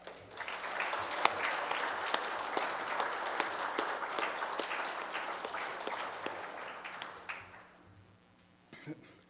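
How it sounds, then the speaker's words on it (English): An indoor audience at a volunteer event delivers a hearty round of applause, sharp claps building to a full sustained roar before tapering off near the end, with a voice returning briefly afterward. "let's give our volunteers and Ethan another big round of applause"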